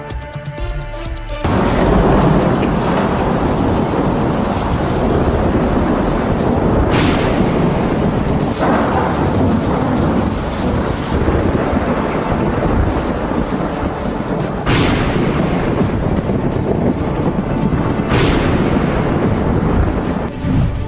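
Heavy rain pours steadily through a thunderstorm, with rolling thunder booming repeatedly over the continuous roar of downpour.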